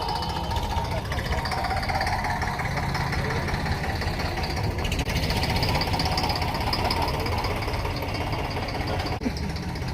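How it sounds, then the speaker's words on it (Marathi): A turbo-engined Hindustan tractor shown at an agricultural exhibition runs loud and close, a rough rapid chugging with a hard knocking texture that holds steady throughout, with crowd noise faintly around it. "टर्बो इंजिन आहे."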